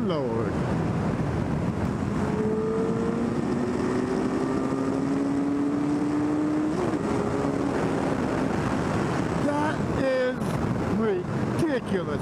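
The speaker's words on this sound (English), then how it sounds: "That is a silly, stupid, strong, smooth motor." A 2009 Suzuki Hayabusa at speed, its engine note largely buried under heavy wind rush against the microphone, with faint rising whine tones threading through the roar.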